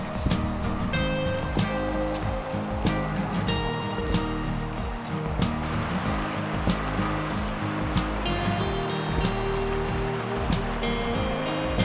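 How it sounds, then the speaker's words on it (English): The Salmon River in Idaho's Sawtooth Valley flows past the riverbank with a steady, dense rush of water. The sound is loud and continuous throughout, with no voices. "on the riverbank of the Salmon River"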